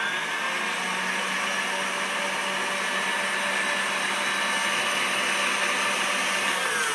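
Electric mixer whipping egg whites with sugar at high speed for tiramisu, a steady loud whirring drone that holds unbroken throughout, close and alone without talk.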